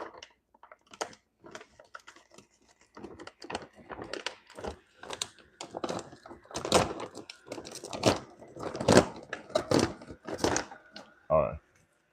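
Crinkly plastic rustles and sharp tearing crackles as a package of dog food is opened, in irregular bursts, close by, with a voice talking in between.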